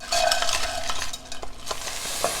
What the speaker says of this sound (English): Cook and stir for a few minutes until the vegetables are softened.